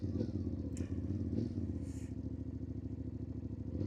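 An adventure motorcycle rides slowly across a flat dirt parking lot, its engine a steady, close mid-pitched rumble with some loose clatter throughout.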